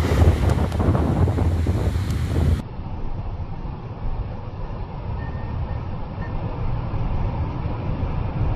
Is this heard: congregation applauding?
no